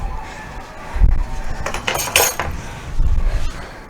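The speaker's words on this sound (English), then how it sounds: "Let's get it all nicely stirred in there." A spoon stirs cumin into a lighter chile con queso dip, giving a few close clinks and scrapes against the dish in short bursts, with no talking.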